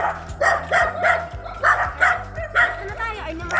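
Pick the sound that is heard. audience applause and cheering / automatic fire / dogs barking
dogs barking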